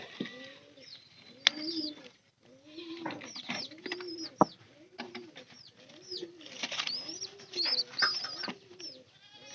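Domestic pigeons coo repeatedly in low, rolling bursts close by, with a few sharper chirps and calls scattered between, in a quiet loft setting with no talking.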